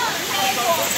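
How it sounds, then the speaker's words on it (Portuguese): A waterfall at Sítio Macapá in Araruna, Paraíba, Brazil, gives a steady broadband rush of falling water, close and fairly loud, continuous and unbroken for the whole second. "Cachoeira aqui, muito linda, né?"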